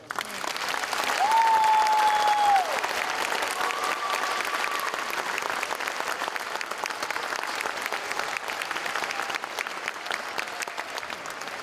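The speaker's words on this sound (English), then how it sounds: "Thank you for the applause." Audience applause at an elementary school spring concert, honoring a teacher: sustained clapping from a crowd in a hall, with a brief whistle-like tone early on and murmuring voices beneath.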